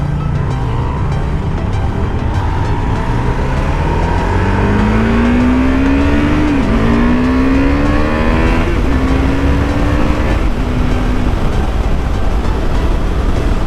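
A KTM 390 Adventure motorcycle engine pulls hard while riding, its pitch rising through gears with brief dips at each shift, loud and close over heavy wind rush.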